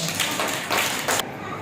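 Children clapping together in a first-standard classroom activity, a short burst of several rapid claps that ends abruptly, with talk over it.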